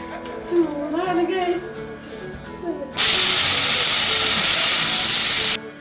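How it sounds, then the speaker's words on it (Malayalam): A pressure cooker boiling eggs lets out a loud, steady steam whistle that bursts in sharply and holds for nearly three seconds before cutting off. Before it, people talk and laugh in a home kitchen. "അപ്പൊ രണ്ട് വിസിൽ അടിച്ചു നമ്മൾ കുക്കർ ഓഫ് ചെയ്തിരിക്കുകയാണ്"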